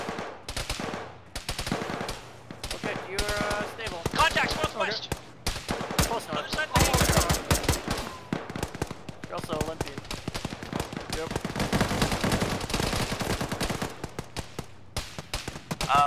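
Heavy incoming gunfire in a military shooter game: rapid machine-gun bursts and sharp rifle cracks arrive in dense, uneven volleys, some close and loud, others distant, while players talk over the firefight.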